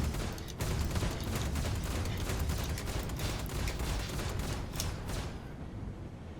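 Rapid sustained volleys of fixed guns fire from a P52 Merlin snub fighter in the Star Citizen space game, a loud dense clatter with regular bursts running continuously for several seconds, no voices.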